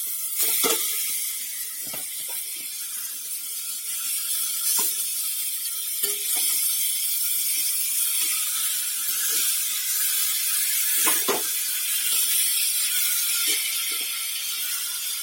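Boiled taro greens tipped into a pan of fried hilsa fish heads, setting off a loud continuous sizzle broken by repeated clanks and scrapes of a spatula, close up, no talk.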